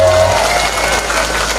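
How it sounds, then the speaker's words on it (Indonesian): Audience at an Islamic sermon gathering applauds a group of women singers: a dense, steady wash of clapping fills the whole short stretch at even loudness, with faint voices mixed in. "kompak tepuk tangan untuk ibu-ibu"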